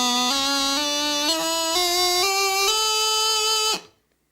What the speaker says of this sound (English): This is the sound of a chanter reed that's flat on the upper notes.